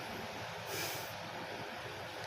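Steady broadband rumble and rolling noise from aboard the Blambangan Express passenger train hauled by a CC 206 diesel locomotive, continuous and fairly distant, with a brief brighter hiss partway through and no talking.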